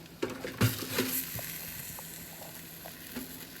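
Ribeye steak sizzling in a pan, a steady soft hiss broken by a few sharp pops and clinks near the start.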